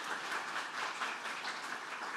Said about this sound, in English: I would appreciate it if our missions team members could stand up very briefly so you could recognize them as well with a round of applause.